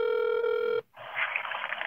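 An outgoing phone call plays a steady ring tone, then cuts off abruptly into a short silence followed by a noisy, hissing line as the call connects.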